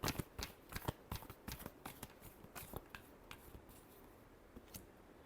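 Tarot cards shuffled by hand in a final round, a run of crisp riffling snaps and flicks that start dense and loud, then thin out to a few scattered soft slaps, close up and with no voices.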